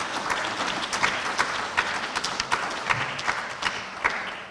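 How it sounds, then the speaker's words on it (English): A graduation audience at City Hall applauds the Harrisburg High School Junior ROTC color guard. Moderately dense clapping with a few sharper individual claps stands out near the front and holds steady throughout. "big applause and thank you to the color guard of the Harrisburg High School Junior ROTC"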